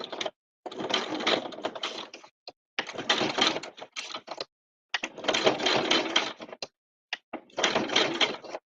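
A sewing machine stitches fabric around a curve for reverse appliqué, running in bursts of rapid whirring stitches a second or two long, with short pauses between.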